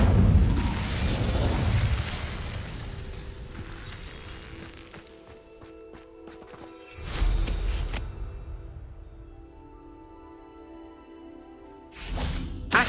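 Incendio fire spell cast in the video game Hogwarts Legacy, a roaring burst of flame with a whooshing onset that fades, followed by a second fiery blast and a brief third flare near the end, with game sounds ringing between.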